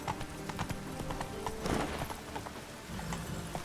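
Horse hooves clip-clop at a steady trotting rhythm in the open-world fantasy game The Witcher 3, fairly close and continuous, with faint game ambience behind and no talking.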